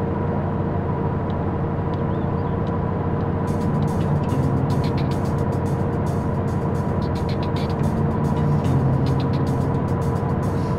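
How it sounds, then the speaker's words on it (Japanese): Car engine in DayZ, a constant low droning rumble that stays steady and loud throughout, with faint rattles and clicks layered on top and no talking. "この車の音で初動は取れたって感じだもんな。"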